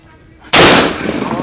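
A submachine gun fires a single loud, close report that cuts in sharply and rings out into a decaying echo, heard at an outdoor shooting range with no talk over it.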